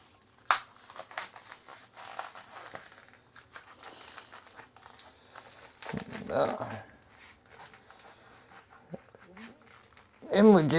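Plastic wrapping on a packaged pot roast crinkles and crackles in bursts as it is torn open, with a person talking over the rustling and a louder crumple near the end.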